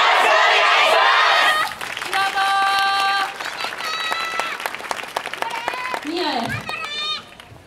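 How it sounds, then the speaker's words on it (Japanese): Audience applause and cheering swell loudly at a Kobe student yosakoi team's dance performance, then settle into steady crowd noise with rhythmic claps, whistles and bright chiming tones layered through the rest. "手拍子、心拍子のほどよろしくお願いします。"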